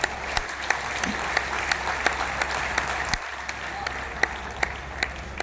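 Steady applause from a large crowd at a Kalki festival poetry gathering in Sambhal, a dense continuous wash of clapping with a low hum underneath and occasional sharper claps standing out.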